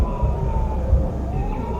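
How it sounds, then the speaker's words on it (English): An emergency siren from the space salvage game Hardspace Shipbreaker sounds with a wailing tone that sweeps upward, loud and steady over a low rumbling background. "You hear that siren?"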